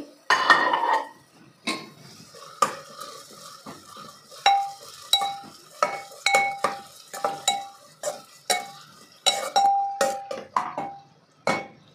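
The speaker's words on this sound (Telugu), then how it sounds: "ఆనియన్స్, పచ్చిమిర్చి, మెంతం కూర, ఈ మూడు చక్కగా ఇప్పుడు మనము ఫ్రై చేసుకోవాలి." Onions, green chillies and fenugreek leaves stirred in a pan, heard as a string of metallic clinks and scrapes from a spoon against the pan over a faint sizzle, close and with no voices.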